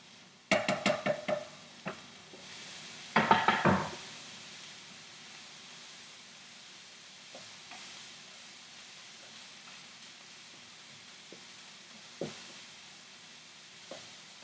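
Carrots hitting a hot pan of cauliflower and pork fried rice, two short loud sizzling bursts near the start, then a quiet low simmer with a few faint clinks.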